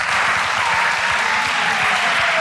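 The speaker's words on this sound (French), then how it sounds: "Est-ce qu'on peut donner une dernière main d'applaudissement pour Ian et aussi Pasteur Laurence?" A live audience at an evening talk on science breaks into sustained, dense applause, a loud steady wash of many hands clapping with no voices over it.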